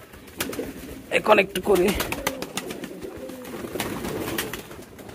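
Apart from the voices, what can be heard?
male pigeon cooing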